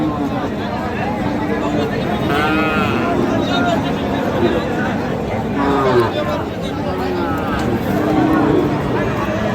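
Bulls moo a few times at a busy cattle market in Bangladesh, amid a crowd of people chattering nearby, the lowing blending into the steady background babble.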